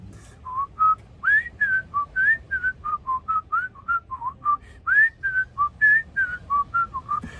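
A person whistles the Andy Griffith Show theme on stage at the Peace Love Beer & Music Festival, a steady run of clear, bright phrases with short gaps, close and alone over a faint background hum.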